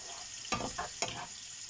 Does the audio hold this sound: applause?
no